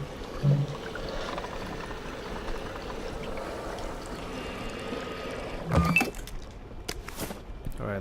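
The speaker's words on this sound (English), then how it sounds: "Filter this water up." Water being filtered in the game We Happy Few: a steady wash of pouring, trickling water runs throughout, with a louder splash and clatter near the end and no voices.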